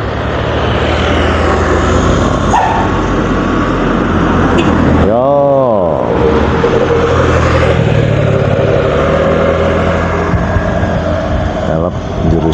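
A vehicle roars past on a roadside at a bend in Cidolog, its engine droning loud and close throughout with a sweeping pitch change midway as it goes by, over constant traffic noise.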